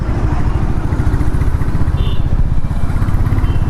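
A motorcycle ridden fast, picked up by a mobile vlogging mic, gives a loud, steady engine roar mixed with rushing wind buffeting that stays constant and close throughout.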